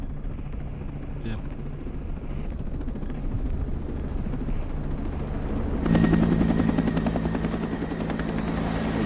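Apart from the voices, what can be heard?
drones buzzing in video game Ghost Recon Breakpoint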